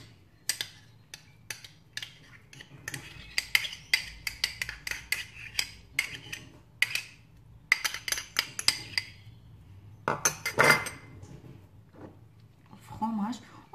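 Metal utensils clink and scrape against a bowl as tuna is added to a pastry filling, with a steady run of light taps and knocks through most of the clip over a low background hum.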